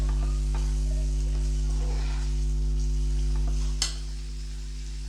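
Kitchen King masala is stirred into dhaba-style dum aloo in a pan, a soft steady scrape and gentle sizzle over a constant electrical hum, with one sharp clink of the spoon near the end.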